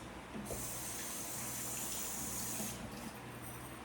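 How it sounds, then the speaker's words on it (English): Tap water runs steadily for a couple of seconds while hands are rinsed in a kitchen after handling mushroom marinade, a close hiss that starts and stops, with faint background hum. "And rinse our hands."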